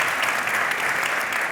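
Steady, dense audience applause at a Catalan public talk event, fairly loud and continuous throughout with no voices standing out.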